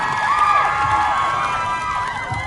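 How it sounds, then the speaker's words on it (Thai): An excited crowd at a music launch event for a boy band cheers and screams loudly, with high, sweeping shrieks rising above a constant roar of voices. "ขอเสียงปรบมือดังนะครับ"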